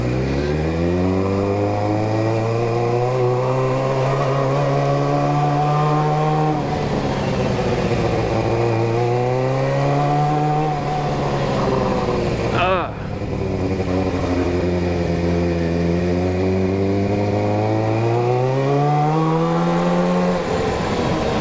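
A motorcycle engine runs loud and close for the whole stretch, revving up through the gears in repeated rising sweeps with a brief dip midway, as the rider pulls away on a chilly Sunday night.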